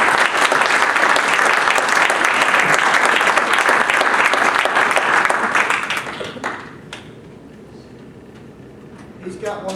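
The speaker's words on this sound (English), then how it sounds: "Let's give him a big round of applause." An audience at a live comedy show applauds loudly and steadily for several seconds, then fades to a few scattered claps, with a voice speaking over it.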